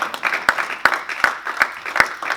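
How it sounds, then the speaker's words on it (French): A church congregation applauds during a sermon, with steady rhythmic clapping in sharp, evenly spaced beats over a lively crowd murmur. "Acclame pour eux quand même"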